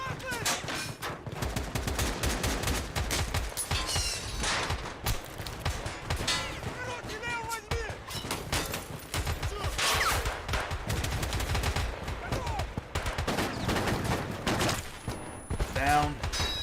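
Rapid bursts of automatic gunfire and single shots crack through a raid in Escape from Tarkov, dense and loud across the whole stretch, with voices talking over parts of it.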